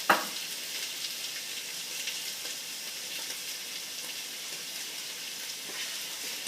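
Beef broth is poured into a hot pot of caramelized onions for French onion soup, giving a brief splash at the start followed by a steady soft sizzle and bubbling with faint stirring.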